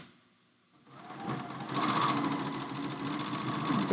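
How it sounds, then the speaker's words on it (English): A sewing machine stitches across the bottom of cut quilt triangles, its steady close mechanical whir starting after a brief quiet moment and running continuously to the end. "you're just going to stitch across the bottom"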